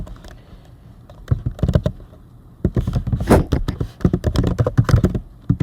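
An email address being typed on a computer keyboard: rapid, close clattering keystrokes in uneven bursts, starting sparse and then running dense and loud, with no voices.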